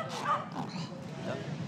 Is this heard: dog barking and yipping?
yes